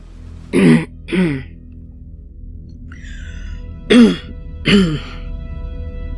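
Four rough throat clearings, two close together, a pause with a faint short sound, then two more, loud and near in a quiet room.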